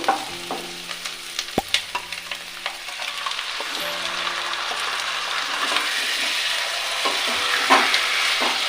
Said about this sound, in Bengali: এবার আমি চিকেনটা দিয়ে নাড়াচাড়া করে ঢেকে ঢেকে কষিয়ে নেব